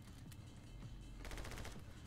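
Quiet gunfire in the video game Pedro shooting at a barrel, with a few scattered shots early on and then a quick rattling burst over a low background hum.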